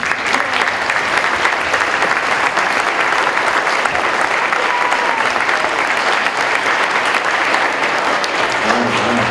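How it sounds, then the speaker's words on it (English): Sustained applause from a school band concert audience, a dense steady clatter of many hands lasting the whole stretch with a faint murmur of voices beneath. "So can we give them a round of applause?"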